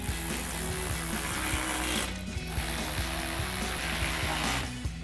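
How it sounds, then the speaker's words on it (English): A hand ratchet with a 10mm socket tightens bolts during a Morimoto LED headlight install on a 2015-2023 Dodge Challenger: rapid, close, rhythmic pawl clicking in repeated bursts of strokes, with no voices. "we'll grab our ratchet 10mm socket and put our 2 bolts in the back"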